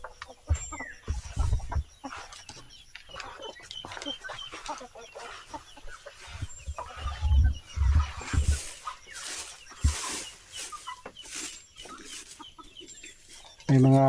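Hens cluck and chatter in bursts throughout, close by, with scattered rustling and brief faint talk in the background.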